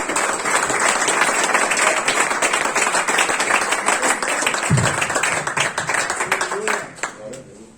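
A church congregation at an evangelical service applauds loudly in a sustained dense patter of clapping that gradually fades out, with voices mixed in.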